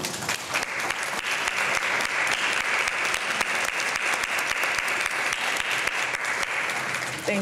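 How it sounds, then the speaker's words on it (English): A seated audience at a lecture event claps in appreciation as community leaders stand, loud sustained applause from many hands with sharp individual claps standing out, continuing evenly across the whole stretch. "please stand as we clap to show our appreciation for your presence"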